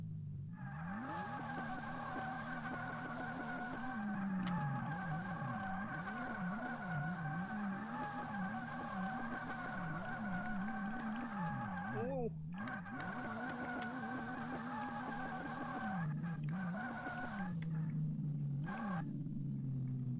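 Car engine and exhaust burbling steadily nearby, with a deep throbbing drone and rising and falling revs that cut out briefly around twelve seconds before resuming, heard alone for about twenty seconds.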